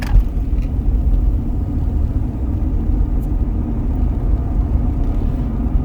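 Slow road traffic of cars, a continuous close low rumble of idling and creeping engines, steady and unbroken with no talk.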